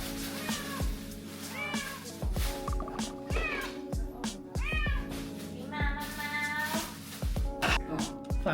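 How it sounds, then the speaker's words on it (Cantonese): A pet cat at home keeps meowing loudly in a long run of close, rising and falling cries, while people talk over and between the calls. "咁大聲嘅？ 死叫啦！ 屋企隻貓。"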